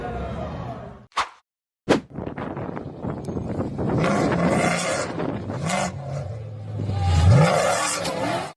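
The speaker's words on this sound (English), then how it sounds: "The off-road racing pickup revved up and tried to clear a narrow dirt trench" An off-road racing pickup on a dirt hill climb revs hard, engine roaring and surging in uneven bursts after a brief cut to silence, with a rising whine near the end, loud and close.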